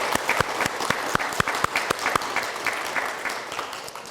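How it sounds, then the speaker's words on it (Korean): Brisk, steady applause from an audience at a Buddhist dharma talk, with dense clapping and sharp individual claps standing out throughout. "박수 쳐주세요"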